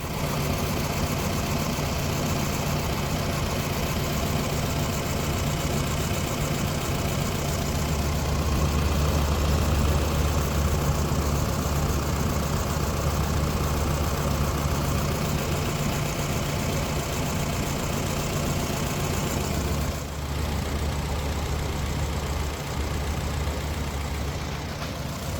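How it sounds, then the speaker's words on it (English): A Jeep engine idles steadily on fuel vapour in a continuous, loud, even drone with a low rumble that holds for the whole stretch and dips briefly near the end, with no voices. "The Jeep now seems to be running on vapor."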